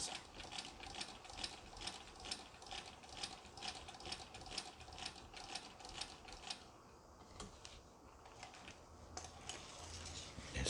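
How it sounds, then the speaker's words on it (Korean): A 1970s DRESS treadle sewing machine, freshly repaired after a broken hook replacement, stitches as its hand wheel is turned, giving a steady run of close, rapid mechanical clicks and taps with a brief slowdown midway. "이분은 발틀로 사용하시기 때문에 핸들을 돌려서 이제 박음질 되는 부분을 예, 확인하고 있는"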